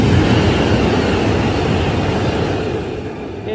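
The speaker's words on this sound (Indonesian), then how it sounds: "Oke bro, ini dia kereta api cepat dari arah Halim" High-speed train from Halim heading toward Padalarang near Cisomang, West Java, passing close by with a loud steady rushing roar that eases slightly near the end.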